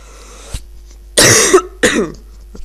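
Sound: coughing

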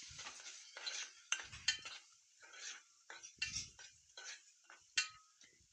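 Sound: stirring spices into vegetables in a pan

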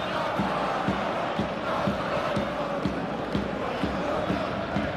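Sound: crowd cheering in eFootball 24 video game match

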